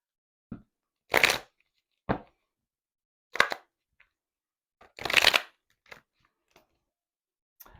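Tarot cards being shuffled by hand in a quiet room, several separate riffling bursts of crisp paper flutter with pauses between, close and clear with no talking.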